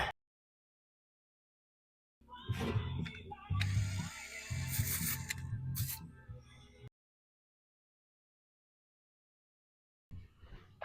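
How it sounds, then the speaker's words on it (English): Tool ratcheting and working a screw loose, heard as a few seconds of clicking, grinding mechanical noise between stretches of silence. "I'm going to pull this out, pull the screw out."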